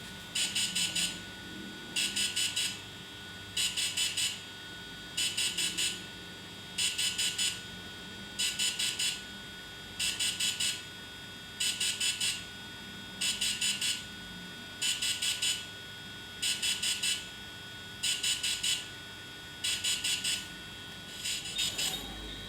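A DJI Phantom 3 drone beeps after a completed firmware update, repeating the same short burst of high electronic beeps at an even pace about every two seconds against a quiet hum.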